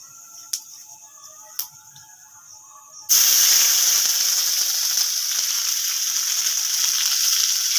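Ginger, garlic and cumin paste hits hot oil with panch phoron in a pan, bursting into a loud, steady sizzle and hiss that continues after a few quiet clicks.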